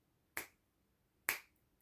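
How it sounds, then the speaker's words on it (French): Two sharp, close finger snaps about a second apart ring out crisply against near silence. "Un claquement de doigts, un passage de la paume de la main devant les yeux."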